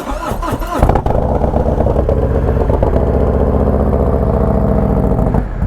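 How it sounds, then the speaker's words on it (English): A Harley-Davidson Road Glide V-twin motorcycle engine rumbles loudly and up close, with a brief rev at the start before settling into a deep, steady lumpy idle. "Best sounding Harley on YouTube?"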